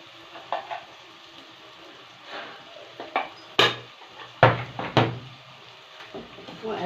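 Rice with cumin and black pepper being stirred in a pan, with scraping and clinking of a utensil against the pan in uneven bursts, a few sharper knocks, and a faint steady background.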